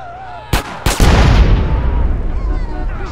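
Gunfire in Grand Theft Auto San Andreas, two sharp loud shots close together followed by a heavy booming blast that rings out and slowly fades.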